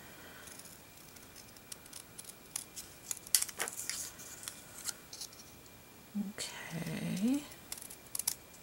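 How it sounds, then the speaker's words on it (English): Scissors snipping around printed paper for a handmade card, a quick series of close, crisp cuts with a short burst of rapid snips near the end, with a voice speaking briefly. "I'm just going to really quickly fussy cut this."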